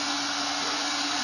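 A large hair dryer blows steadily for cosplay material shaping: a loud, even, close-up airflow whoosh that holds unchanged throughout, with no talk.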